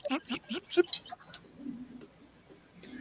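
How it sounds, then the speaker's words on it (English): Several rapid bird calls ring out in a quick burst, then thin out into occasional faint chirps, heard at a moderate distance outdoors. "there's all these birds out in the tree out the front making weird noises"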